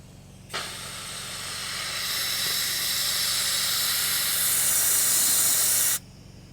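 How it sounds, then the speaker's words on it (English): Close compressed air hissing continuously out of a nozzle pushed into a hole to blast gunk from a car's front end, starting sharply, swelling slightly louder over about five seconds, then cutting off abruptly. "I'm gonna blow it out, see if I can blow out some of this gunk here"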